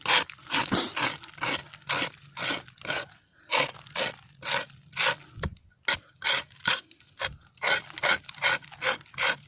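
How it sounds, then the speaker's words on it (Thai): Durian tree bark is scraped with a tool in a fast run of rhythmic rasping strokes, close and fairly loud, about two to three per second and broken by a short pause, with no voices. "พอเราขูดไปเนื้อทุเรียนก็จะเป็น สีขาวใช่ไหม"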